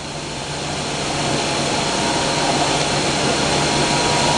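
A Verteq 1800 spin rinse dryer spins up toward 1200 RPM, a steady broadband whir and hum that builds slightly in loudness and holds as a continuous machine drone.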